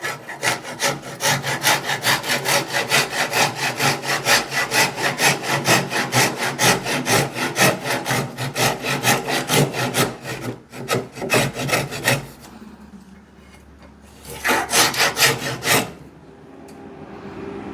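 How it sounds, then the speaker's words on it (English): Hand saw cutting upward into the kerf of a wooden axe handle to taper it, a steady fast rhythm of rasping strokes for about twelve seconds, then a pause and a shorter burst of sawing near the end. "I can take the saw and run it upwards and create a taper to that kerf a little bit"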